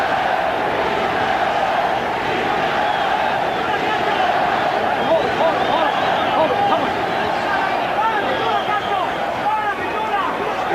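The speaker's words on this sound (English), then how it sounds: "the crowd trying to summon up some energy from Julio César" A boxing arena crowd roars continuously for Julio César Chávez in his bout with Kostya Tszyu, a dense, loud wall of cheering and shouting that never lets up.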